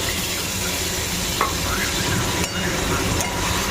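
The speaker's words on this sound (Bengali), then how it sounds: "আবার একটু ভালো করে নাড়াচাড়া করে কষিয়ে নেবো" Pointed gourd with yogurt stirred in a wok, a continuous loud sizzle broken by scraping strokes of the spoon and a couple of sharp taps on the metal.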